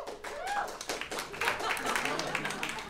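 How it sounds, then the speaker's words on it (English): A few scattered, light golf claps from a small part of a debate audience, sparse individual hand claps mixed with talking and room murmur. "Golf claps. You got a few."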